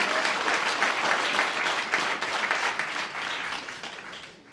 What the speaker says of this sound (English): let's begin by giving another round of applause to Reverend Al Sharpton for all the great work that he does.